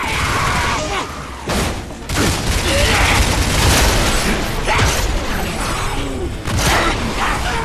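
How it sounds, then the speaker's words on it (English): Shotgun blasts from the shooter game Bulletstorm boom out in a rough series, mixed with mechanical clanks and reload clatter in a busy, loud combat scene, with a voice talking over parts of it. "Love the shotgun."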